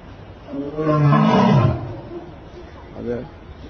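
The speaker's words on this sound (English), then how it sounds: "he's got to roar to communicate with these big cats" A big cat roars, a deep rising-then-falling call that swells loud and close before fading, followed by a softer second grunt, with faint background noise throughout.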